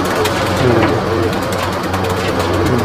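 Pigeons coo in low, throaty murmurs amid a busy, noisy background, fairly close and continuous.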